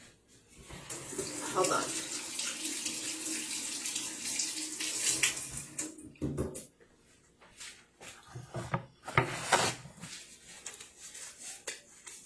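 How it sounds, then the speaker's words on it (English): Tap water runs into a kitchen sink while hands are washed under it, a loud close splashing stream that stops, then resumes in bursts, with brief speech and knocks. "let me wash my hands"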